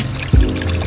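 Tap water runs steadily while cassava is scraped under the stream, with a brief splashing gush near the start over a constant close hiss of flowing water.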